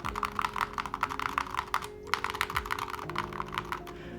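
Rapid, steady typing on a Holy60 mechanical keyboard fitted with metal keycaps, a close, crisp stream of clacking keystrokes with a brief pause near the middle, with no talking.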